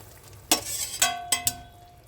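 Fish curry gravy bubbling and sizzling in a pan on the stove, with a few sharp splashy bursts over a low steady simmer.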